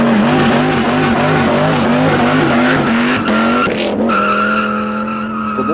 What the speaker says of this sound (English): Let's go try out that throttle response.